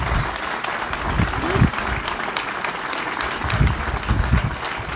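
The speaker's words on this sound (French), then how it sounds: "Je voudrais demander pour cela des applaudissements nourris." A crowd applauds warmly at a ceremony in Gabon where President Oligui Nguema hands over a new taxi fleet. Sustained clapping with a few louder swells runs throughout, while a voice speaks faintly underneath.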